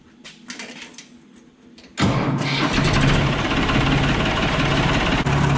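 A Farmtrac 60 tractor engine cranks and catches after a quiet start, then settles into a loud, steady diesel run that continues close by without pause.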